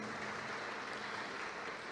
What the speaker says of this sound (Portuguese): uma salva de palmas a Paulo